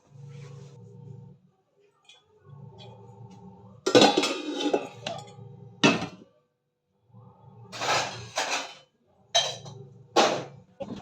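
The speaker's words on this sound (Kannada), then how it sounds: "ಹಂಗಾಗಿ ನಾನು ತಟ್ಟೆ ಸ್ಟ್ಯಾಂಡ್ಗೆ ನೀಟಾಗಿ ಹಂಗೆ ಜೋಡಿಸ್ಕೊಂಡ್ಬಿಡ್ತೀನಿ" Plates being stacked one by one onto a dish rack, giving several sharp clattering clinks in separate bursts over a low background hum, with a voice talking between them.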